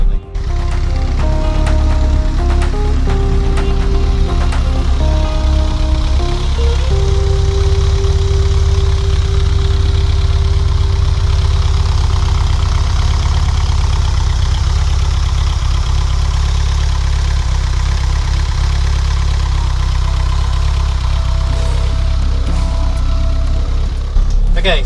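Lotus Esprit Turbo SE engine idling under the open bonnet, a steady loud low rumble holding throughout, with tonal hums and some faint background voices early on.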